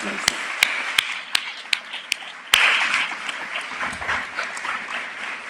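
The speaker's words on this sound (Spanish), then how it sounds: "Y de aquí les mandamos un aplauso." Applause at a Basque journalism awards ceremony begins with a few separate sharp claps, then swells into a broad round of clapping from the audience.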